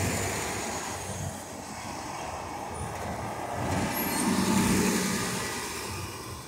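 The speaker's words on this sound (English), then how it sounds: "City bus, we hear coming." A city bus approaches along a New York City street on the east side by Central Park at night, a low engine rumble and rolling traffic noise swelling gradually louder and then easing, over steady urban background hum.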